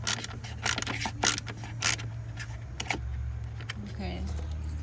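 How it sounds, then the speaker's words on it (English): Ratchet socket wrench tightening a screw on the radiator of a 2013 Dodge Dart, quick bursts of close clicking strokes followed by quieter, sparser ticks over a low background hum. "just screwing the socket"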